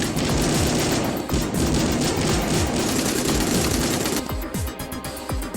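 Rapid sustained automatic gunfire from the video game XCOM Line of Defense, loud and dense bursts of shots running almost continuously, thinning slightly near the end, with no talk over it.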